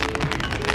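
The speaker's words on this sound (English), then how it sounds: "Yep, it's raining. It's raining." Steady rain falling on a rainy day in Melbourne, a dense continuous hiss and patter filling the moment with no speech.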